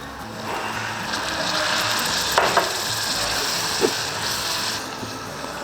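Sambal frying in a hot pan swells into a loud, broad hiss as water is added, with a few light clicks of a utensil against the pan, close and continuous.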